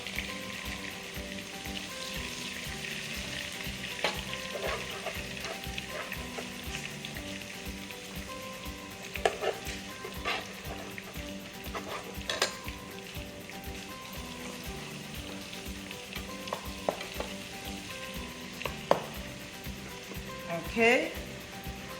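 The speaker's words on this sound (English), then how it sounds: "now I'm going to add my parsley and green pepper" Parsley and green pepper frying in a pan, a soft continuous sizzle with occasional crackles and light clinks, steady and close, with no talk over it.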